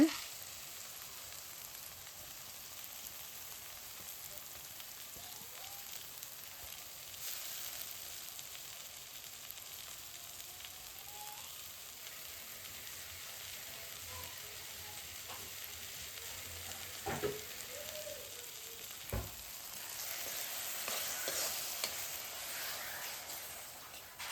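A soft, continuous sizzle of tomato paste frying in oil, with occasional faint pops and stirring scrapes, close by and fairly quiet.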